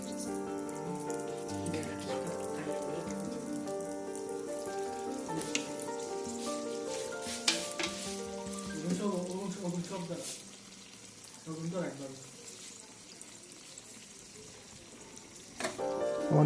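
Bengali sondesh pitha rice cakes frying in plenty of oil, a soft crackling sizzle under a person talking, with clattering utensil knocks and a quieter stretch midway.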